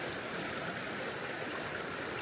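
Small icy mountain stream flowing during a Charlevoix hike, a steady, even rush of water with no breaks, moderately close and alone without voices.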